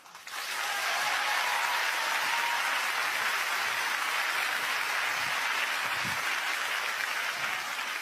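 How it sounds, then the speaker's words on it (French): A theater audience applauds as a performer walks onto the stage, a sustained, full wash of clapping that rises quickly and stays even throughout. "la première fois, vous entrez en scène et un public vous applaudit"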